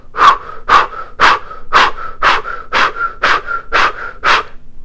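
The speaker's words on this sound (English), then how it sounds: "pumping on the navel on the exhale" Forceful, rhythmic breath-of-fire style yoga breathing, with sharp exhales pumped from the navel during a Kundalini fists-of-anger exercise. About ten strong, evenly spaced breath bursts come roughly every half second, close and loud, with no talking.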